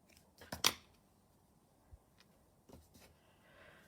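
Scissors snip through crochet yarn at the end of a mosaic crochet piece, one quick close crisp cut followed by faint handling noises and small rustles in a quiet room.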